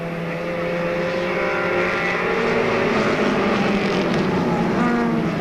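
Stock cars racing at Monadnock Speedway in 1992, with a continuous loud roar of several engines droning at once, lasting throughout with no break.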